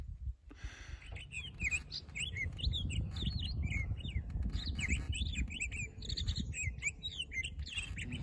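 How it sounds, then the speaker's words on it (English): Many small birds chirp and tweet in quick, overlapping calls near Beaver Lake in fall, over a soft, steady outdoor background with no talking. "And we're seeing lots of birds."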